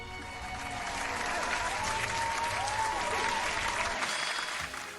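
Steady crowd applause and clapping fills the whole stretch, dense and continuous, fading slightly at the end, with a faint musical tone underneath.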